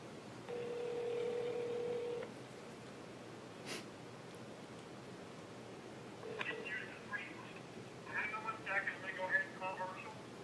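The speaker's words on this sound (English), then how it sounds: "I'm going to go ahead and call Herschel." A telephone call placed by a salesperson: a steady dial or ring tone sounds first, then a short blip, followed by rhythmic tonal bursts like dialing or ringback, all moderately loud with no talk over it.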